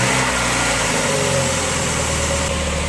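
A car engine idles on a cold start just after an exhaust header repair, a loud, steady, close low rumble with constant vibration and no revving, with no talk.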